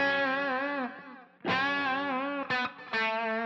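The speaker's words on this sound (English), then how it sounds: "I'm just going to go to the mod chorus. I'm going to make sure it's go to dotted 8" Guitar run through an HX Stomp set to mod chorus with a dotted-eighth delay and trails on: sustained, shimmering chords ring out, then sharp strums repeat and fade in echoes, played alone.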